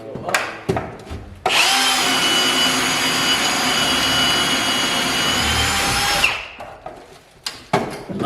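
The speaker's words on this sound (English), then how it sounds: "And we'll drill some holes." A power drill boring holes during home electrical work, running as one loud, steady whine for about five seconds, with short clattering handling noises before and after.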